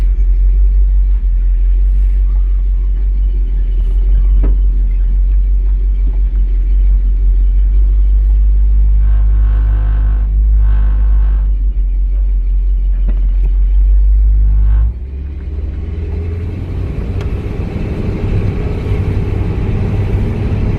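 An old truck with squeaky, grabby brakes and worn front bearings idles and drives, a loud, steady low engine rumble throughout that drops in pitch and shifts character partway through as it pulls away, with no talking.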